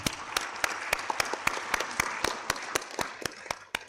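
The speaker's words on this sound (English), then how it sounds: "Probably we can have a round of applause for the deliberation." Delegates at an Asia-Pacific ministerial conference break into a round of applause, a dense wash of many hands clapping with sharper individual claps standing out, steady and moderately loud throughout.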